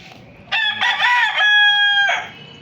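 A single rooster crows loudly and close by in a backyard, one long drawn-out call that rises and holds before trailing off, with faint clucking around it.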